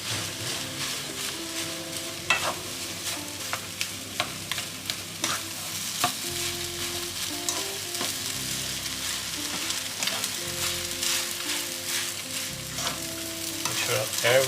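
Fried rice made with Mamee Monster snack is broken up and stirred with two ladles in a hot pan, with steady sizzling and frying under repeated metallic scraping and clinking throughout.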